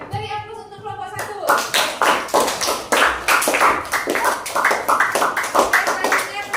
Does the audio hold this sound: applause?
yes